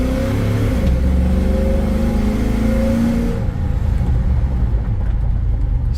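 A cammed 2006 Chevrolet SSR engine revs up during a quick partial-throttle pull, its loud rumbling note climbing steadily and then settling, heard alone without talk.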